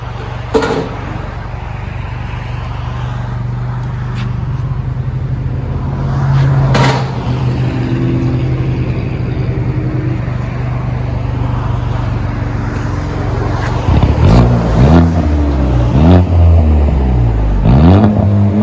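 Chevy Malibu 4-cylinder turbo engine with a muffler delete, idling loudly and close before two sharp revs near the end, its pitch climbing and falling back each time.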